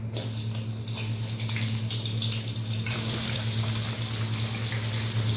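Eggplant pieces dropped into hot oil for stir-fried aloo baingan give a steady, close hiss and crackle, loud and unbroken. A low hum sits beneath the sizzle, and it grows brighter and busier near the end.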